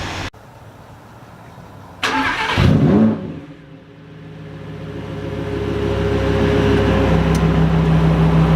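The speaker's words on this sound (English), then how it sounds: "Rev it up in Corsa mode." A Lamborghini engine in Corsa mode barks into a sharp rev after a moment of quiet, then settles into a loud, steady, rising drone that builds toward the end, close by with no talk.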